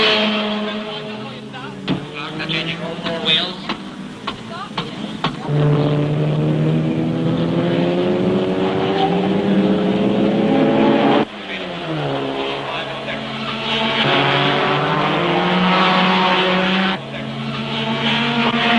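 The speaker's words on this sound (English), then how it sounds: "Now racing second is Salvadori with the Aston Martin, and he too comes in for fuel and tyres to rejoin the race in third place" Racing cars including an Aston Martin in a motor race, engines droning and shifting pitch steadily for the whole stretch with occasional tyre squeal, a voice talking over the noise at times.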